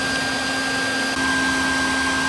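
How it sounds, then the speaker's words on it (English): A vacuum cleaner drones steadily and loudly beside an above-ground pool during a liner replacement, its motor whine constant with a slight bump partway through. "I know the vacuum cleaner's still going"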